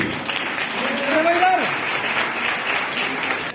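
Applause from a seated audience at a ceremony handing over house keys, a steady broad patter of clapping throughout, with a faint tonal whistle-like sound briefly riding over it midway.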